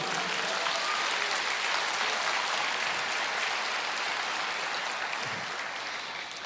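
Church congregation giving sustained applause at a sermon, a thick crowd of clapping that holds steady and then tapers off slightly toward the end.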